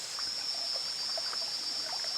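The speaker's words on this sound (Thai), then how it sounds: "น้ำตกไม่ใหญ่มาก" A small, modest waterfall on a trail at an unfinished viewing platform in Brunei gives a steady, soft trickling flow that stays fairly faint and even throughout, with no voices.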